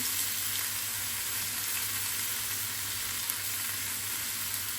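Shashlik skewers sizzling in a hot pan while being basted with ketchup, a loud, steady, unbroken frying hiss held close throughout.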